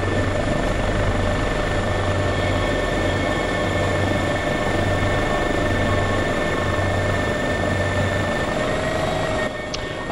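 Airbus EC135 helicopter in a video game, engine whine and rotor running at steady speed, a continuous loud drone with a low pulsing beat, no talk.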